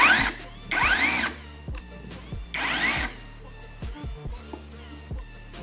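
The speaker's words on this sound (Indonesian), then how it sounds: "Yang ni rotary hammer." A green-edition Mace Plus rotary hammer is run in short bursts, each a loud, close whirring and rattling, with a softer stop-start stretch of switching and handling noise afterward and no talking.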